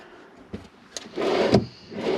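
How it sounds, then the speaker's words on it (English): Pull-out pantry drawers in an RV slide open and shut, with a couple of small clicks followed by a soft, rolling glide and a faint bump near the end. "It has a pull-out pantry"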